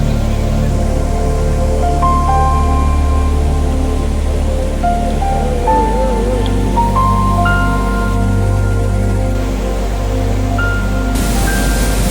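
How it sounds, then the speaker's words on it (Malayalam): Talthasi Abbi waterfall in the monsoon rain gives a loud, steady, unbroken roar of rushing water, heard close with faint tonal notes above it. "ഇതാണ് തളസി അബി വാട്ടർഫാൾസ്."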